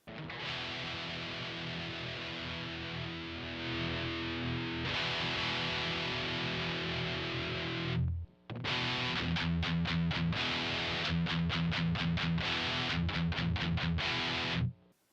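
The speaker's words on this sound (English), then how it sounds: "The use of a distortion pedal allows a lot more tonal possibilities, and it also allows us to easily switch from a clean tone to a heavy tone." Heavy metal electric guitar through a distortion pedal, gain fully up: loud, dense sustained chords for about eight seconds, then a brief cut and fast, tightly chugged palm-muted rhythmic strikes, with no voice.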